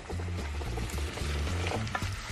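Shallots and precooked Brussels sprouts lightly sautéed in a pan, a close, busy sizzle with repeated stirring scrapes at an even rhythm.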